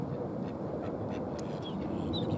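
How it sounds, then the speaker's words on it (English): Mallard ducks quack at a pond in winter, faint scattered calls under a dense, steady wash of background noise. "You can see there's a few mallards"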